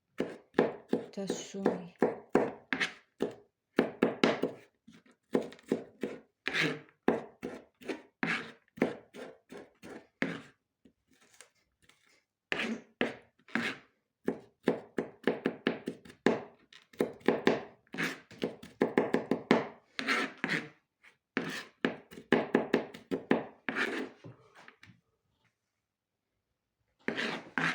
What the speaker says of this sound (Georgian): მე არ მიყვარს დაჭყლეტილი ნიორი. ყოველთვის ვჭრი